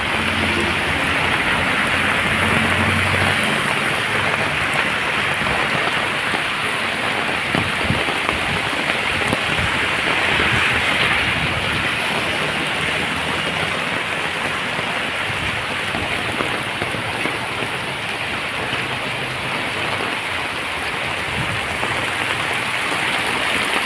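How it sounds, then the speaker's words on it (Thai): Steady heavy rain pours down in Bangkok, a continuous dense patter on surfaces close by, unbroken throughout. "เห็นไหมครับฝนตกแล้วครับ"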